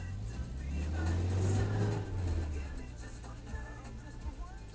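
A car backs out at night with its lights off, its low engine hum swelling and then fading over a few seconds. The sound is faint and a little distant, with a quiet voice in the background.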